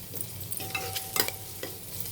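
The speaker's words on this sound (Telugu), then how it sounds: "అల్లం వెల్లుల్లి పేస్ట్ వేసాను. ఇది కూడా కొంచెం వేగాలి." Sliced onions and ginger garlic paste fry softly in a pan for a curry, with a low sizzle under a few scraping stirs of a spoon, close and fairly quiet.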